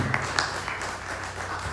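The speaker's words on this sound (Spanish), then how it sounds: "Un fuerte aplauso de bienvenida ahí para Norvin" A church congregation gives a welcoming round of applause, a brief, even patter of many hands clapping at moderate volume with a faint hum beneath.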